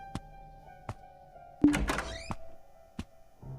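In a horror video game, a door opens and closes with a series of hollow thunks spaced out over a few seconds, including one heavier clattering bang in the middle, against a quiet ambient background.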